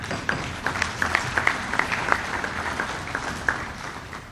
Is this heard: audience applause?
yes